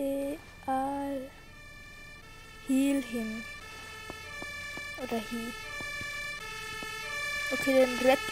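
An ambulance siren from the Roblox emergency game Notruf Hamburg wails in repeated rising tones with music-like harmonics. It sounds moderately loud and steady, and speech comes through in short bursts over it.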